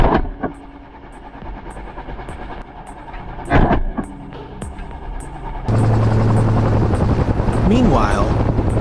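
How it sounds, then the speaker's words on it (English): A helicopter flies low over the ground during a wild boar hunt, its rotor throbbing rhythmically and growing louder toward the end, with a voice speaking over it. "he maneuvered the helicopter closer to the ground"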